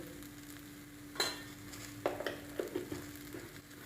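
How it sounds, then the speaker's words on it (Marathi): Okra (bhendi) is stir-fried in a pan for a spiced Marathi-style dry dish, with a low steady sizzle and a handful of spatula scrapes and clinks. "आता ह्या भेंडीला आपण दोन मिनिटं चांगलं परतून घ्यायचं"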